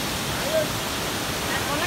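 A mountain river in Uttarakhand, swollen after two days of rain, rushes past close by as a constant, even roar of water with no clear breaks.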